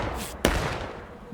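A single cannon shot in the Civil War game War of Rights lands as a sharp, heavy boom with a short rumbling tail, heard from some distance over a steady background.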